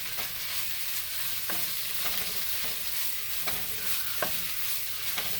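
Small chunks of salt fish fry in a pan with a steady close sizzle, while a utensil scrapes and turns them in repeated strokes about once a second.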